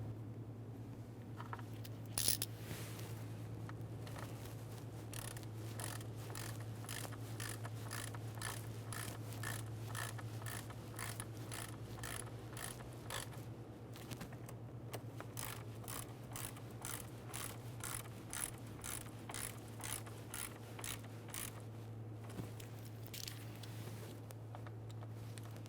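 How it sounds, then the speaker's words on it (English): Mounting screws on a throttle position sensor of a 1998-2011 Ford Ranger 2.3L four-cylinder being snugged and torqued with a ratchet, a steady close series of rapid pawl clicks in bursts over a constant low hum. "Start in your mounting screws, snug them up, and torque those to 27 inch-pounds."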